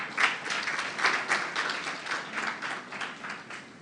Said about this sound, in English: Once again, a round of applause for her, please.